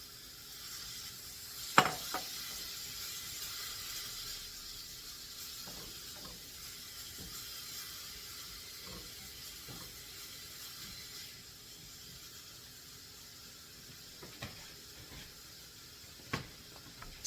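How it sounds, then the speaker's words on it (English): Steady low bubbling and hissing of water boiling in a pot, with a few sharp clinks and taps scattered through. "I can see my water is boiling here"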